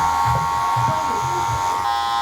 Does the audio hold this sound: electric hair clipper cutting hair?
yes